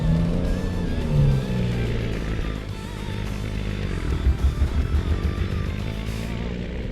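A truck in American Truck Simulator drives on with a steady, loud engine drone that rises and falls slightly under continuous road noise, alone without voices.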